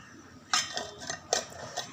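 A metal tin is closed in a home kitchen, with a few close, soft metallic clicks and clanks as the lid is pressed and fitted on, each short and quiet.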